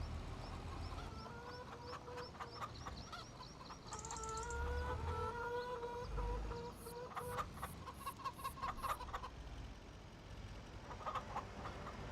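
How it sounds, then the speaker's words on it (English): Chickens cluck on a farm in the Farming Simulator video game, on an Iowa plains map, as a quiet cluster of short repeated calls with soft background ambience and no talking. "I put chickens on every map that I have because chickens are my thing."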